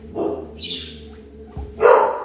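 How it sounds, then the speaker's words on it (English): A dog gives a few short barks and vocal yips, with a louder burst near the end, against a quiet indoor background. "You can hear our dog talking to the delivery guys."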